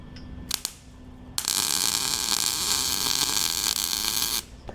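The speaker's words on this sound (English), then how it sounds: "I'm getting the bolt plenty hot. Doesn't like all that welding." Arc welding on a metal bolt crackles as a loud, steady buzzing hiss lasting about three seconds, preceded by a couple of brief sputtering strikes.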